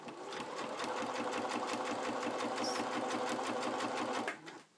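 A sewing machine stitches an open seam along the edge of fabric, its needle chattering in a fast, steady rhythm that runs loud and close without a break for about four seconds before stopping abruptly.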